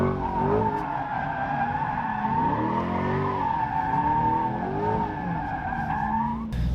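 A mid-engine Chevrolet Corvette C8 on new, sticky tires drifts with a long, continuous tire squeal, its wavering pitch rising and falling as the car slides, the engine droning underneath, loud and sustained until it cuts off near the end.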